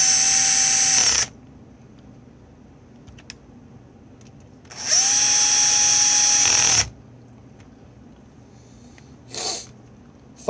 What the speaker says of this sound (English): I'm going to screw them back into place.